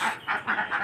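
Ducks squawk in a village in Bangladesh, with about four quick, harsh honking bursts close by in under a second and no talking.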